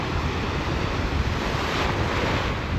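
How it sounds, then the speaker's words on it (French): Ocean waves and a 2.5 m swell wash around a sailboat on an Atlantic crossing from the Antilles to France, a dense, loud rushing of surf mixed with buffeting wind noise. "Par moment, on a droit à de très très belles vagues."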